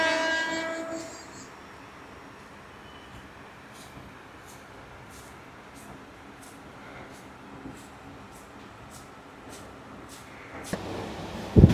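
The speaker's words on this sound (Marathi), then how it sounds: "ट्रेन कुठली तरी आली आहे" A train pulls into a commuter railway station with a steady rumble and rhythmic rail clatter, ending in a louder burst close by.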